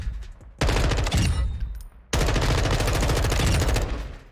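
Rapid bursts of automatic gunfire from a firing range in the video game Modern Warfare II, two loud sustained volleys separated by a brief pause, close and dense.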